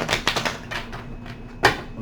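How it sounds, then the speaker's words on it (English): Tarot cards being shuffled by hand for a Leo reading, a handful of quick papery riffle bursts close up, with a sharper final snap near the end and no talking. "One more shuffle, guys."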